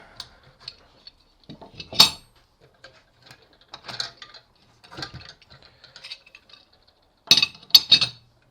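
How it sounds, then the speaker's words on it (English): Metal clamps being loosened and removed from a freshly glued guitar fretboard give scattered sharp clinks and ratcheting clicks against near silence, with a louder cluster near the end. "Right, clamps off."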